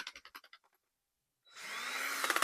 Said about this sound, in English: well, there goes the drill bit.